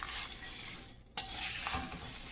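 Bhel puri ingredients being tossed and stirred together by hand for Indian street food, a steady close scraping and rustling with a brief pause midway before the mixing resumes.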